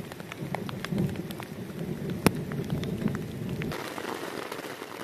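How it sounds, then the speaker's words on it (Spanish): Steady rain pattering on a surface at a campsite in the French Pyrenees with a low rumble of thunder, a sharp crack of lightning cutting through midway, then the rain thins out. "La lluvia ha comenzado y la tormenta está avisando."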